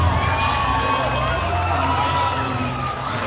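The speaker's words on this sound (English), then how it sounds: "we hear the crowd getting loud as they take their warm-up lap" A loud crowd cheers and shouts continuously in a gym as high school varsity wrestlers take their warm-up lap before a dual meet, a dense roar of voices with scattered whoops throughout.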